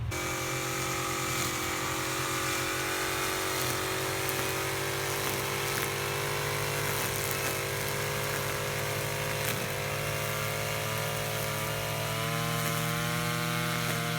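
A gas string trimmer cutting a ragged lawn edge at a wide angle holds a loud, steady engine whine with slight pitch wavers as it cuts. It runs close and continuous throughout.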